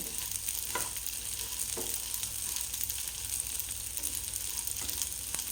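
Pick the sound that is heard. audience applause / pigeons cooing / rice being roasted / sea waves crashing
rice being roasted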